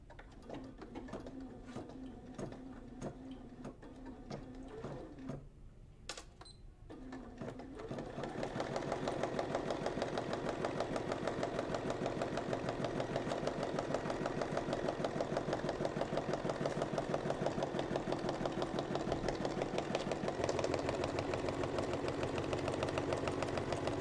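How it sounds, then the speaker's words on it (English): An embroidery machine sews a placement stitch. A few soft mechanical clicks and pauses lead into a loud, steady, rapid whirring hum that runs without a break for the rest of the clip. No voices are heard. "So I'm going to go ahead and start stitching that."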